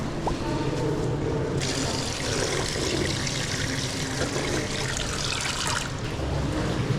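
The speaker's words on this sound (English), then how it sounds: "So they have drinking fountains here." Running water from a drinking fountain at a thermal bath in Budapest streams and trickles steadily throughout, close and continuous, over a faint background murmur.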